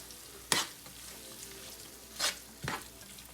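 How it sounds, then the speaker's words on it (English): Sharp cheddar cheese goes into a sizzling pan for a casserole and is stirred in: a soft steady sizzle broken by three short scraping stir strokes, quiet and close, with no talking. "we're going to add a cup of sharp cheddar. And we're going to make sure we stir that in as well."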